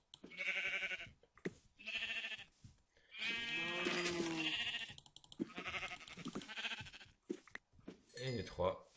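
Sheep in the Minecraft video game bleat in several loud, close, wavering cries, a few seconds apart, with a person speaking in between.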